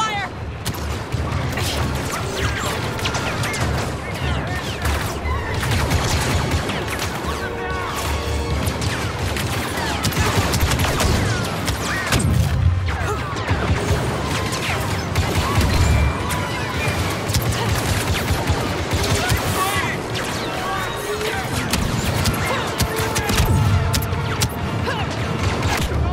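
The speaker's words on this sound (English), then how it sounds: "Open fire!" Blaster gunfire and explosions in a Star Wars video game firefight, dense repeated sharp shots and heavy booms over a busy music-like backdrop, loud and continuous, with voices calling out at times.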